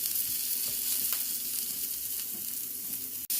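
Onions caramelizing in a pan for a keto Philly cheesesteak, giving a dense, even sizzle and crackle that stays steady throughout, close and with no voices, then a brief sharp click near the end.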